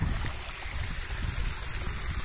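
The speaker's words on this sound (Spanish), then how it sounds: "Está corriendo el agua acá." A mountain stream runs past a fishing spot near a vehicle crossing, its steady broadband rush and trickle filling the whole stretch at a constant, fairly close level.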